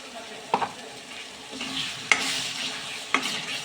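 Cashew paste goes into a sizzling gravy in a pan, a continuous close frying hiss broken by three sharp spoon clinks against the pan as it is stirred in.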